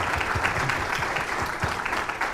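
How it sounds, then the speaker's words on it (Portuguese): A crowd at the 20th-anniversary event of the Corinthians Memorial applauding for Edson, dense steady clapping throughout, fairly close, with faint voices mixed in. "salva de palmas para o Edson também"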